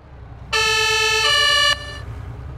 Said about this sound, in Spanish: Almansa, si ponen la sirena, los coches se apartan